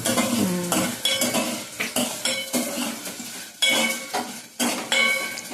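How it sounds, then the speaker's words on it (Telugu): Onions tipped into hot oil in a cooking pot while tamarind rasam is being made, with repeated metal clinks and scraping of a utensil against the pan in uneven bursts, close and fairly loud, with no talking. "ఫస్ట్ ఐదు ఉల్లిపాయలు వేసుకుందాం"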